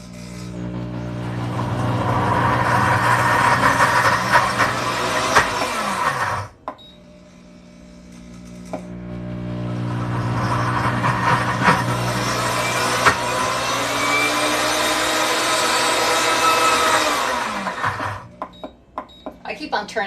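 A countertop blender on a custom speed setting grinds sweet potato hummus in two long loud whirring runs separated by a short pause, each ending as the motor winds down, with talk faint beneath.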